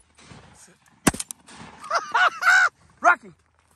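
During a duck hunt, a single sharp, loud shotgun blast cracks out once, followed by quacking or honking waterfowl calls and scattered noise outdoors.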